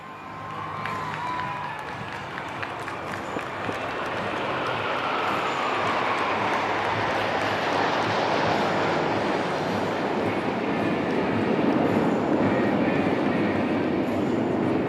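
A formation of military aircraft flies overhead during an Indian Armed Forces air display. Its roar swells steadily from faint to a loud, broad, sustained rush that holds to the end.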